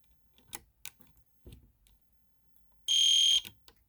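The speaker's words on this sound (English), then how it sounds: "We'll go ahead and see how the speaker strobe works." A fire alarm speaker strobe sounding during a test, one loud, piercing electronic tone lasting about half a second, preceded by scattered soft clicks and handling knocks.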